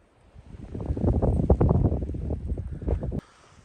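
Strong gusting wind on a cold snowy day at a winter campsite, roaring and buffeting close to the microphone for about three seconds before cutting off abruptly.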